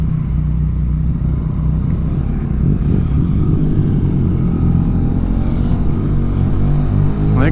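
A motorcycle pulls away in low gear on a first ride, its engine note a loud, close, steady drone that climbs slightly in pitch as it accelerates. No voices are heard over the engine.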